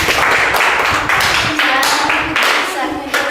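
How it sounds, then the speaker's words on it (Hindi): Enthusiastic clapping for a student in a Hindi dictation class, a quick run of loud, sharp hand claps in uneven bursts, close by, with a voice talking over part of it. "इनके लिए एक जोरदार ताली होना चाहिए।"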